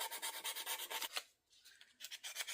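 Rust being scrubbed off an old tool, rapid rhythmic rasping strokes close up, a brief pause midway, then more quick scraping bursts.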